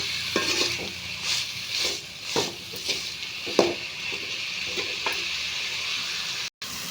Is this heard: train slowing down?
no